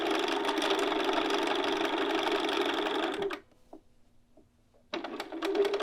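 Sewing machine stitching up the right side of a garment neckline over elastic, a steady close mechanical whir for about three seconds, a brief pause with faint clicks, then stitching resumes.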